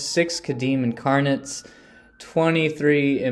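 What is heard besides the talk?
No distinct noise like a dog, phone or traffic.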